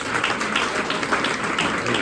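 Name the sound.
audience applause for the panelists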